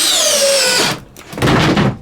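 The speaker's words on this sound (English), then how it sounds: "the DEWALT definitely had more power putting that screw in" A DeWalt 20V compact drill drives a screw in a short whirring burst that winds down, pauses briefly, then gives a second rougher spurt, close and loud.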